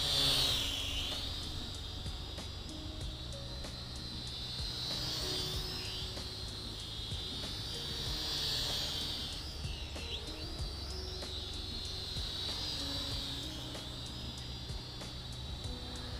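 An RF606 quadcopter drone flies low around a yard, its steady high-pitched rotor whine holding close and continuous throughout, swelling and easing slightly as it glides about.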